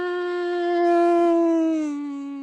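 A person imitates greyhounds howling after feeding at a greyhound track, voicing one long, steady, tonal howl that swells in the middle and dips slightly in pitch at the end, close and alone.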